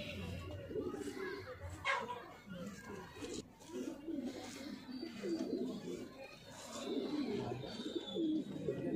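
Surkhe pigeons in Jaipur, Rajasthan, coo softly in a continuous low murmur, with someone talking over them throughout.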